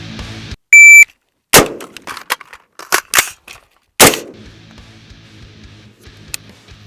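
Rifle shots fired on a shot timer set to a delay: a sharp electronic timer beep, then several loud, close cracks separated by a pause for a reload, with a faint beep near the end.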